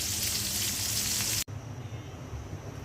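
Cumin seeds and spices hiss as they fry in hot oil, a loud close sizzle that drops off abruptly halfway through and continues as a quieter bubbling.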